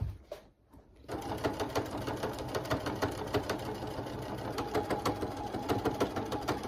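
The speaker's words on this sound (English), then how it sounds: "So just sewing the bottom." A sewing machine runs steadily after a brief quiet start, stitching the bottom hem of a pirate costume with a fast, even mechanical whir close by.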